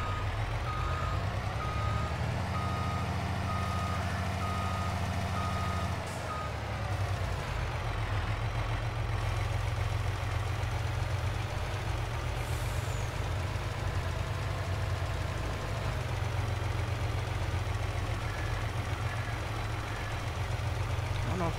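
In the Farming Simulator video game, a tractor engine drones steadily while a reversing alarm beeps in a regular, repeating pattern. Both sounds stay loud and close throughout the long stretch.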